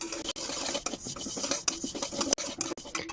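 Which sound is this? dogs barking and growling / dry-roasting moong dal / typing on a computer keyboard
dry-roasting moong dal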